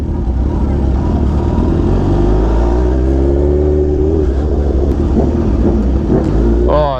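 Engines rumble loudly and steadily as supercars and motorbikes crawl through a large cars and coffee meet, with one engine rising in pitch midway and voices talking faintly underneath.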